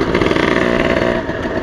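Close, continuous engine noise from a Yamaha V80 two-stroke motorcycle, running roughly with uneven surges and a dip near the end, suggesting fuel starvation; no voices.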